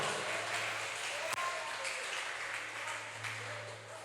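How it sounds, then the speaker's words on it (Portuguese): A church congregation applauds in worship, a soft, steady, somewhat distant patter of many hands with a low hum underneath and a single sharp tap partway through. "Dê um aplauso e glorifique o nome do Senhor"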